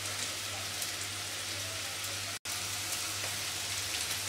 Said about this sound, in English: the fish has been frying for about 4 minutes on the one side